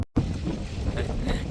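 Strong wind roars against the microphone outdoors in Canada as winter sets in. The rough, continuous gusting noise sits close and loud, with a brief dropout at the very start.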